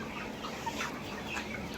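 Multicoloured tiger chickens on a farm, with soft, scattered clucks and murmurs close by over a low, steady background hiss.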